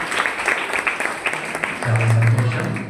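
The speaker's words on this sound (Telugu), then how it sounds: "మీకు ఒకసారి చప్పట్లు కొట్టండి" Church congregation applauding the standing committee at a Palm Sunday service, a dense patter of clapping across the hall with a sustained low tone swelling in the second half.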